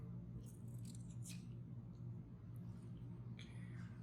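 Scissors snip fly tying material at a tying bench for a bass and trout fly, several quick close cuts bunched early and another toward the end, over a steady low hum.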